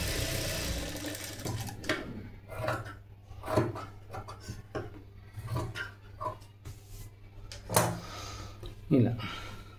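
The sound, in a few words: sewing machine stitching blouse edge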